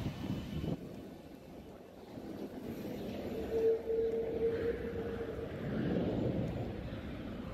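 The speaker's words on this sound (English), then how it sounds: "Like, we're just taxiing to the runway now." Inside a passenger airplane cabin taxiing toward the runway, a steady low rumble and whoosh of engines and airflow fills the space, with a brief thin whine rising midway.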